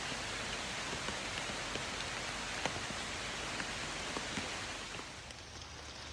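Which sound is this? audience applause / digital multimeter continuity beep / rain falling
rain falling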